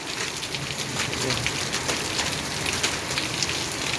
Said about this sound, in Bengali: বৃষ্টিও খুব জোরে হচ্ছে